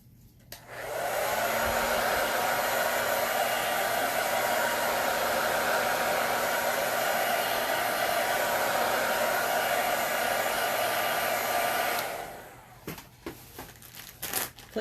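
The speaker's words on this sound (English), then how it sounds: "And then we're going to hit it with the dryer." Hair dryer blowing in one continuous loud, steady rush for about eleven seconds, then switching off, followed by small handling clicks and rustles.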